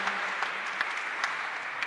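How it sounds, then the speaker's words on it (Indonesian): Applause from a church congregation at a Catholic confirmation service in Sudiang parish, honoring newly confirmed members, a steady dense patter of many hands with faint accents throughout. "patut tepuk tangan untuk mereka"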